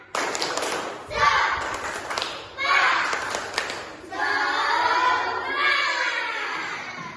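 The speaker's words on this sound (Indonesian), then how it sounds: "Sekali lagi, tepuk semangat." Schoolchildren repeating a tepuk semangat clapping chant in class, with rhythmic claps in groups mixed with loud unison chanting voices, near and lively.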